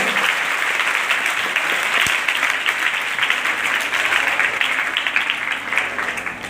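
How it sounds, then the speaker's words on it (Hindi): Loud, steady audience applause fills the space at a village ceremony honouring meritorious students in Farmana, sustained across the whole stretch with no talk over it. "के लिए जोरदार तालियां हो।"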